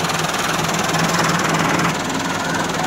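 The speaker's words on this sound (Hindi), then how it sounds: "तो ट्रैक्टर है जी" A 2018 Massey Ferguson 385 tractor engine runs steadily nearby, giving a dense, even mechanical drone with a faint knocking texture and no change in speed across the short stretch.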